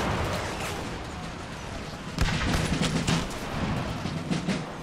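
Massed musket volleys from line infantry in a video game battle between the Duchy of Savoy and the Kingdom of France crackle in dense, overlapping bursts, swelling louder midway as more ranks open fire.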